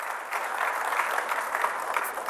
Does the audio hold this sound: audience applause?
yes